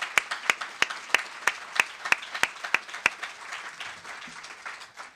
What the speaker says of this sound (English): So once again, a round of applause for the panel.